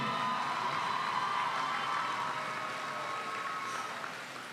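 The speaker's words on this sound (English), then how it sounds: "Give Poetic 101 a big, huge round of applause." Steady applause from a graduation audience honoring the Poetic 101 poetry slam team at a high school commencement, a broad sustained wash of clapping that holds evenly and tapers slightly at the end.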